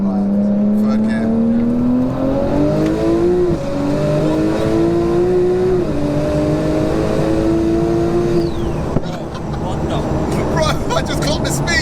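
A 1536 bhp Porsche 911 Turbo S with a 4.1-litre stroker engine pulls hard in third gear, its loud droning note climbing steadily, dropping at a shift and climbing again, heard from inside the car with occasional voices.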